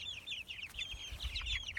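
Broiler chickens on a farm cluck and peep continuously at close range, with rapid overlapping high calls over a low background rumble.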